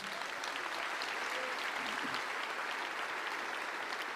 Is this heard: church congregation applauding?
yes